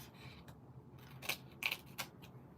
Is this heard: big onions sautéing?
no